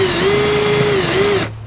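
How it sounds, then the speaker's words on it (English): Loud, close whine of a power drill boring into a Mazda Miata exhaust, holding a steady pitch with a slight dip before cutting off abruptly. "Hopefully I can drill it with this drill bit without it walking around."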